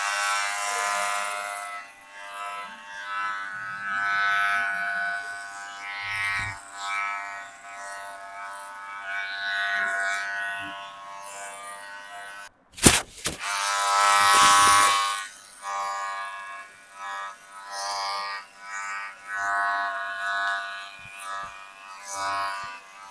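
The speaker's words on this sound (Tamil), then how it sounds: "ஸோ தாடி வந்து நம்ம மீடியமாக தான் ட்ரிம் பண்ண போகிறோம்." An electric trimmer buzzes steadily while trimming a beard to medium length during a haircut, close and continuous, with a brief louder burst partway through and short pauses in the tone.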